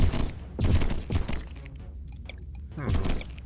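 Railgun turrets in a swarm defense strategy game fire rapid bursts of sharp, pew-like shots in clustered volleys, with brief gaps between the loud barrages.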